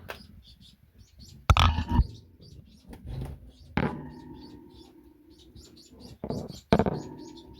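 A golden finch cock bird gives short, faint chirps in an aviary, broken by sharp knocks and bursts of wing-flapping from restless, flighty movement.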